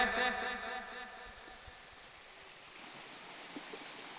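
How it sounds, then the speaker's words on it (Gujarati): Water trickles and rushes through a hill stream in rocky terrain, a steady broadband wash running throughout; a brief tonal voice or sound is faintly present at the start before the flow continues alone. "ડુંગરમાં મિત્રો પાણી ક્યાંથી આવે છે ક્યાંથી નહીં બિલકુલ ખબર પડતી નથી"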